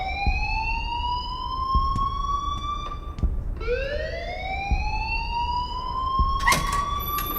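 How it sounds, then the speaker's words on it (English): A school alarm in the Life is Strange video game wails as a rising and falling siren tone at Blackwell Academy, loud and continuous, sweeping up twice with faint clicks beneath. "please turn off that alarm since that's your job"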